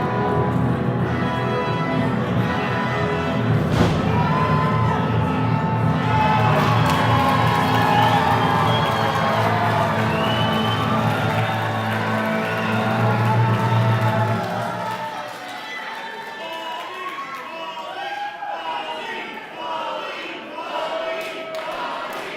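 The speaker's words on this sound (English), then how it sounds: "The crowd chanting for Baldy from Baldy and the Vegan on the TP" Crowd at a live match event cheering and chanting for about fifteen seconds, loud, dense and sustained, then dropping to a quieter murmur of voices with scattered shouts.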